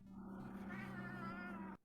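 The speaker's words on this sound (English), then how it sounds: "It's the laziest meow." A cat lets out one long, drawn-out meow that is loud and close, lasting almost two seconds and then stopping abruptly.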